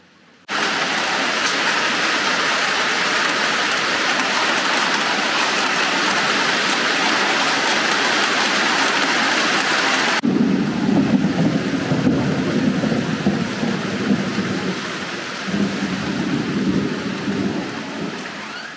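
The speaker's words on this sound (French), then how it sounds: "Wow, il y a de ces orages. Ça vient de gronder là, ça fait flipper." Heavy rain pours steadily during a thunderstorm, a loud continuous hiss throughout, with deep rolling thunder rumbling in under the downpour during the second half.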